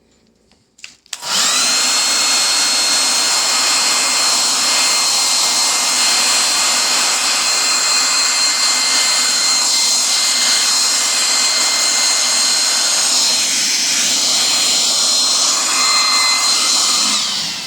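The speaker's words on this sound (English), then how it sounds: "let's blow dry that" A hair dryer blows on a painting to dry the paint: a loud, steady whirring roar that starts abruptly after a second of near silence and runs unbroken, close to the listener, with no talk over it.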